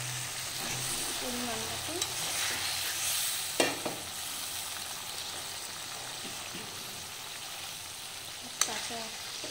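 Fish frying in a pan, a continuous hiss and sizzle with occasional clinks of stirring, while a person speaks briefly over it.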